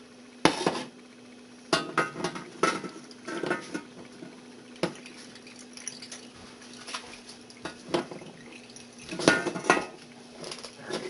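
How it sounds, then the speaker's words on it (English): Hot fat being drained from a meatloaf pan, with repeated clanks and knocks of the metal pan and utensils over a low background hum and some liquid patter. "I'm going to drain this fat off of this out of this pan"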